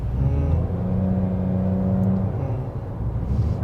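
A 3-cylinder car engine drones and whirs under acceleration, a steady low rumble with a rising hum as speed builds, close and continuous from inside the cabin.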